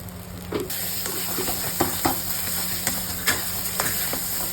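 Ground drumstick pulp frying with black cumin in an oiled pan sizzles and hisses steadily while a spoon stirs it in repeated short scrapes and taps, close by, with no voices.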